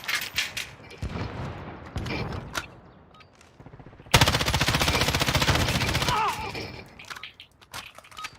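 Automatic gunfire in Call of Duty Warzone, Season 3 squad match, with scattered shots early and then a dense, loud sustained burst of rapid fire lasting about two seconds, fading to quieter sporadic shots.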